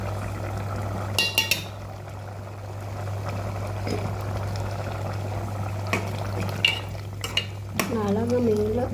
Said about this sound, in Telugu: స్పూన్తో ఇలా ఎందుకు కొట్టడం అలవాటు అయింది.